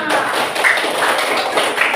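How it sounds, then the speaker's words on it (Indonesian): A room of schoolchildren claps together for all the groups, a steady, fairly loud patter of many hands lasting throughout. "Tepuk tangan untuk semua"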